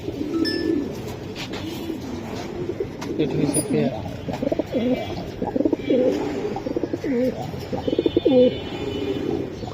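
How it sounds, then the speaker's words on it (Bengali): Pigeons for sale coo repeatedly in soft, throaty phrases close by, with someone talking over them and light background bustle. "এই যে আরেকটি কবুতর"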